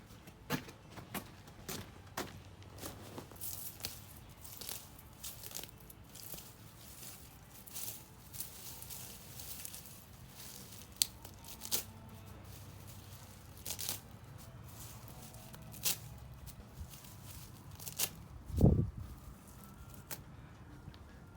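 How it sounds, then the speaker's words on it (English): A knife cuts young liriope plants by hand in a lawn being cleaned up in spring: quiet, scattered rustling and tearing snips, with one louder thud near the end and no voices. "I'll just grab that up and take a knife and cut it"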